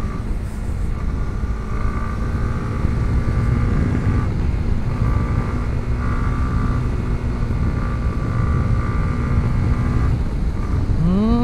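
A Honda CB150X motorcycle engine drones steadily while riding up a mountain road, a constant loud hum heard from the rider's position that holds an even pitch throughout, mixed with wind noise and no talking.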